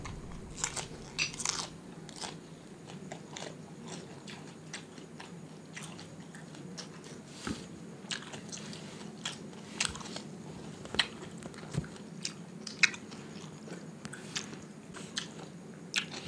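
Crispy fried shrimp being bitten and chewed up close: repeated sharp crunches and crackles in an uneven rhythm, loud against a quiet background with no talking.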